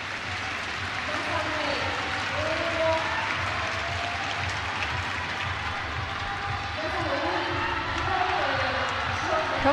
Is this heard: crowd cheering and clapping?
yes